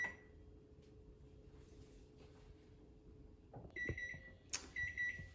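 A kitchen timer beeps while being set during cooking of adobada pork, a few short, high electronic beeps near the end after a quiet stretch, close but soft.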